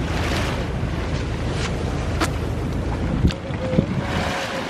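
A wind-powered sailing fishing boat moves across the open sea without an engine, giving steady rushing wind and water noise with a few creaks and knocks from the hull.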